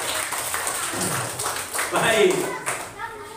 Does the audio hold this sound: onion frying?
no